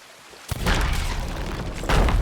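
Ship cannons fire in Sea of Thieves, with two heavy booming blasts about a second and a half apart, each followed by a rumbling tail, loud and close with no talking over them.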